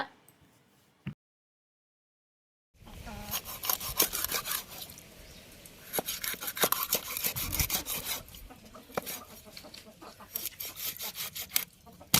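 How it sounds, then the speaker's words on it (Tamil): Jilebi fish gets cut into frying-size pieces with a blade, a steady rasping, sawing scrape that repeats rhythmically for several seconds after a short silence, with chickens faintly audible in the background. "அழகாக வறுவலுக்கு தேவையான சைஸில் இப்போ கட் பண்ணிகிட்டு இருக்காங்க"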